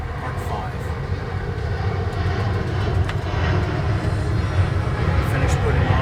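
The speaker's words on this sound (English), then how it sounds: "thanks airplane for interrupting me." An airplane flying overhead makes a steady, loud roaring drone with a heavy low rumble that continues unbroken from start to end.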